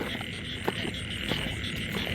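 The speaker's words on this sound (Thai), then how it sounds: "กบเขาคูครับพี่น้อง" Frogs croak at night in the rainy season during a frog-hunting outing, a steady wash of calling with a few sharper croaks rising out of it, close and continuous with no talk.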